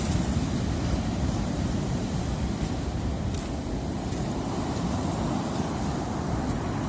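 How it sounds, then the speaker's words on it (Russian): Sea waves wash onto a beach near Mersin, Turkey, on an overcast February day, a continuous low rushing roar mixed with wind. "Класс сегодня волна."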